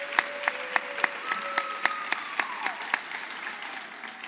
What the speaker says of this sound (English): So let's give them one more round of applause for all our incredible rising stars.